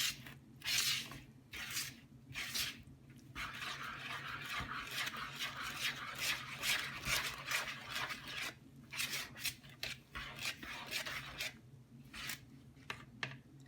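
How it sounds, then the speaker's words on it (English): Cinnamon roll ingredients being mixed in a bowl, with close, steady scraping and swishing strokes repeating rhythmically for about fourteen seconds and no talking. "just going to mix this until it's well combined"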